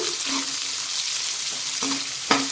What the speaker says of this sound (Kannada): ಈರುಳ್ಳಿನ ಈಗ ಇದನ್ನು ಕೂಡ ಚೆನ್ನಾಗಿ ನಾನು ಫ್ರೈ ಮಾಡ್ಕೊತೇನೆ